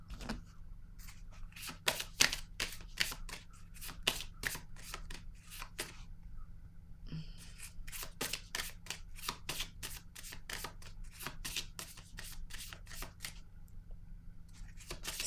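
Tarot cards shuffled by hand in steady bursts of crisp riffling and slapping, close and loud, with a brief pause midway before the shuffling resumes.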